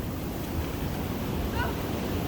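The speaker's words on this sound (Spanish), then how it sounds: "¿Todo el año el mar es así con olas tan grandes y la marea tan alta?" Ocean waves surge onto the shore at high tide at Puerto Viejo, Costa Rica, a steady broadband wash of surf with wind noise and no clear break in the roar.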